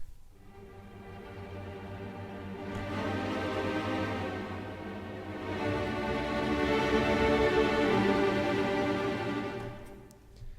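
Orchestral string tremolos from the Berlin Orchestra Inspire sample library, a dense, rich bowed body that fades in, swells twice and then thins out near the end, continuous and unaccompanied by speech.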